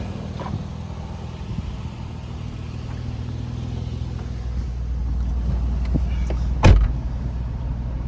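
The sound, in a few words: truck engine running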